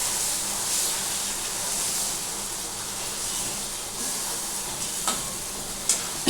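Mustard paste with green chillies hits a hot frying pan for fish curry, giving a steady, close broadband sizzle and hiss throughout with a few faint clicks near the end.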